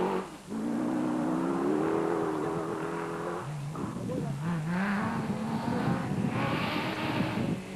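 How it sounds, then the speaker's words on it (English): Nissan rally car engine droning at the Sugarbelt 400 rally race in 2008, a sustained rising and falling motor tone beneath continuous commentary. "With single pilot Paul Bailey leading, the second Nissan was on its way"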